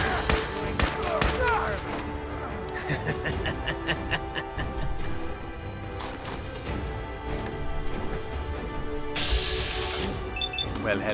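Enemy gunfire in Fallout 4's Far Harbor crackles as sharp, loud bursts of shots in irregular clusters, mixed with impacts, while a voice talks over the fighting.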